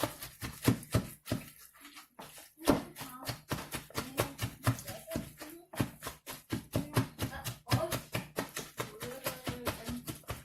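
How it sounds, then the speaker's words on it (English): Food being chopped for lettuce wraps, a steady run of quick knife taps on a board with brief pauses, close and fairly soft. "I'm gonna chop this up a little bit, give it a good stir."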